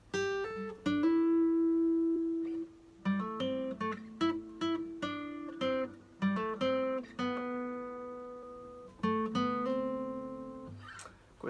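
A guitar plays the intro riff of a song at a slower pace, with clear plucked notes and chord stabs ringing out in repeated phrases, played alone and fairly close with no voices over it.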